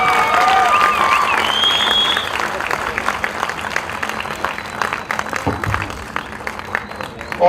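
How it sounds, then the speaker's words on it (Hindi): Audience applause at a Bollywood film trailer launch, a dense, steady wash of clapping from a crowd that thins out toward the end, with voices and shouts mixed in. "चलो ना, ताली मारो, क्या शर्माते हो यार."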